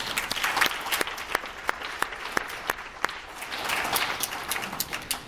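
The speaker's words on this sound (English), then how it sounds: "I think that deserves a round of applause." An audience at a college trauma and wellness conference keynote applauds steadily, a dense wash of many hands clapping at moderate distance with a few sharper individual claps standing out throughout.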